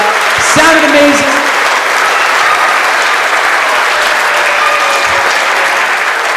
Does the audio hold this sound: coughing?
no